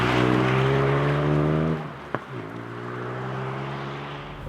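A Ford Puma ST engine pulls hard in second gear, its rising drone climbing steadily, then cutting briefly at a shift before building again, loud and close from inside the car.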